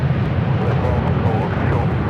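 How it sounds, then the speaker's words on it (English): A heavy Airbus airliner departs Los Angeles International Airport with a steady, broad jet roar that holds at an even level throughout, and a voice is faintly present beneath it. "Heavy Airbus departing off to the left, 125."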